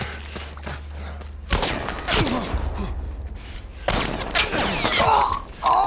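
Loud gunshots and heavy impacts ring out in The Last of Us Part 1, in scattered bursts with gaps between them, while voices shout and talk over the action.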